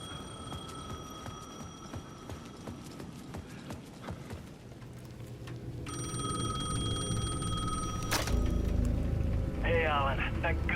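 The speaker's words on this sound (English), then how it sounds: "The payphone at the edge of the plaza was ringing again." A payphone at the edge of a plaza rings in the video game Alan Wake 2, its electronic bell tones repeating over footsteps and ambient game noise, growing louder in the second half.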